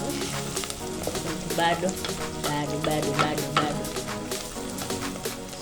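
Onions frying in a pan for green grams (ndengu), a steady close sizzle with stirring and broad crackle, with brief speech over it.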